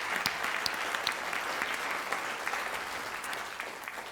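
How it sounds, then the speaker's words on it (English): Applause for a panel at the Oslo Tropical Forest Forum, a steady, moderate patter of many hands with a few sharper individual claps standing out, sustained throughout. "could you please join me in a applause for our brilliant panel?"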